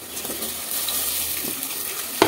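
Onions frying in a pan for chicken curry, a soft continuous sizzle with light stirring scrapes and a sharp clink near the end.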